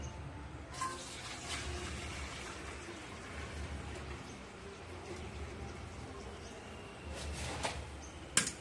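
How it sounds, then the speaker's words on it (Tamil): Rice-rinsing water poured into a clay pot while preparing Pongal, a soft, steady splashing trickle running throughout at close range with a few brighter spurts near the end. "இப்போ அரிசி களைஞ்சிக்கிட்டு அந்த தண்ணியை இதில் ஊற்றணும்."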